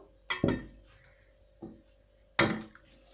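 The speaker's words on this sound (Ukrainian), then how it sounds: "Спершу я беру каструльку" Several sharp, close knocks and clinks as a saucepan is picked up and set down in a kitchen, with quiet gaps between them.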